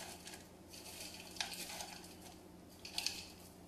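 A spoon stirs a Parmesan and crouton topping mixture in a bowl, giving soft scraping and a few sharp clinks, faint and close, with no voices.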